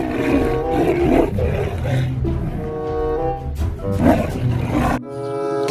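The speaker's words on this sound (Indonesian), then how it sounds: "Ada harimau teman-teman." A tiger roars repeatedly in the video game Jurassic World Evolution 2, with loud, deep, growling bursts in an uneven rhythm that carry close and strong before ending abruptly.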